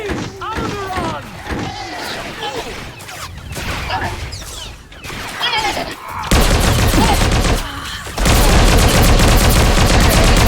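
Bursts of blaster-style gunfire in Star Wars: The Old Republic on Alderaan, loud close volleys that build toward the end, mixed with voices talking and heavy impacts.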